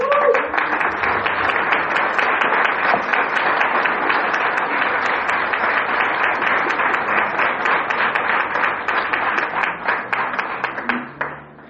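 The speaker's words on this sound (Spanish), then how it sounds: "¿Le das un fuerte aplauso?" A church congregation bursts into strong, steady clapping during a service, sustained for about ten seconds before tapering off.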